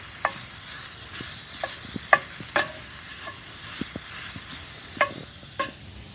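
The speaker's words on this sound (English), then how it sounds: "I got this handy little tool to mix the meat up like this." Italian sausage meat broken up and stirred with a small tool on a grill, with a soft steady sizzle under scattered metallic scrapes and taps, close by and unaccompanied by speech.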